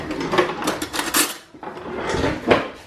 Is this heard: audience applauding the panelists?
no